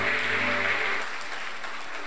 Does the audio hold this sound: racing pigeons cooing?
no